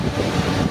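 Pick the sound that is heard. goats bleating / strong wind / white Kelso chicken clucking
strong wind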